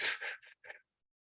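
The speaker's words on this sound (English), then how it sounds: "Double pump inhale. Double pump exhale. Fire breathe." A person does a fire-breathing exercise during a guided breathing session, giving a few quick, sharp breaths in close succession, short forceful pumps of air, close and fairly quiet, then silence.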